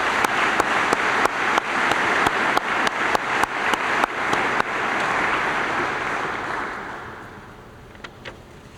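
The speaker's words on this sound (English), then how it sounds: "I would ask you to join me in applause for the platform guests." An audience at an agricultural engineering groundbreaking event applauds platform guests, with steady clapping and a few distinct sharp claps that fades out gradually over several seconds into quiet room noise.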